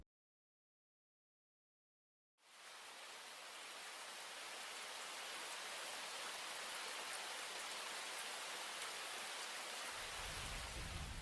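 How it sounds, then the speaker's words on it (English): After a moment of silence, a heavy August downpour in College Station, Texas starts abruptly and keeps hissing steadily and loudly, growing slightly denser as it goes on. "The sizzling August heat gives way to a week-long downpour in Aggieland."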